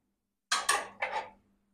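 Roasted dagad phool (stone flower) spice being scraped out of a pan in a home kitchen: a few quick, close metallic scrapes and clatters in a short burst, then quiet.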